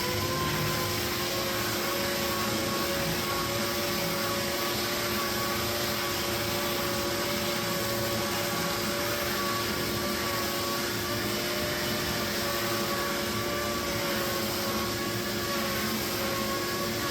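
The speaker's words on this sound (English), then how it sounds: "The hose you can see here is for my dust collector, so that because it's going to create some rust dust." A shop dust collector runs continuously with a steady, loud whooshing roar and faint tonal whine, unchanging throughout with no voices.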